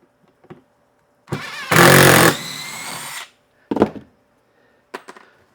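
A power drill backs a screw out of an RV end cap in one sustained loud whir lasting over a second, then a few short bursts follow with pauses between them.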